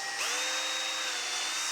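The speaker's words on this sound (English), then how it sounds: "I've made marks where I can drill my holes for my zip ties." A power drill bores holes for zip ties while mounting a ham radio antenna mast, starting up and then running as one steady, loud, high-pitched whine with no talk.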